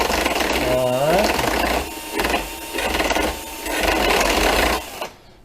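A drill grinds against a lawn mower blade during sharpening, a loud, sustained rasping whir that surges and eases in several bursts before cutting off.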